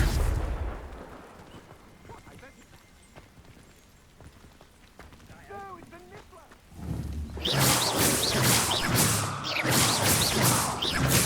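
A Confringo fire spell from Hogwarts Legacy, a burst of loud crackling blasts that rise sharply midway and keep rumbling in rapid bursts to the end, after a quieter stretch with faint voices.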